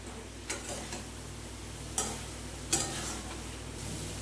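Korma masala with kasuri methi sautéing in a pan, a faint low sizzle with a few soft scrapes and stirring clicks of a spoon against the pan.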